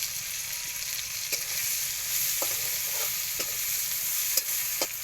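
Green chilies spit and sizzle in hot oil in a pan where prawns were fried, with a steady broadband frying hiss and a few sharp clicks and scrapes of stirring spread across the span; no voices.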